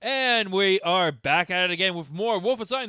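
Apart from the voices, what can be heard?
None of the usual background noises is heard.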